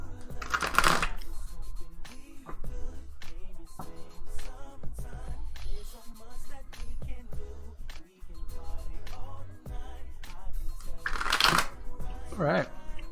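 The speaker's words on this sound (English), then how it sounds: "Just a little shuffle, tuning into your vibe here a little bit." Tarot cards being shuffled during a live reading, with crisp riffling bursts near the start and again near the end, between stretches of quieter handling and soft talk.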